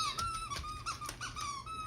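Squeaky dog toy being chewed, giving a quick run of sharp, high squeaks in an irregular rhythm, close and fairly loud, with no talking.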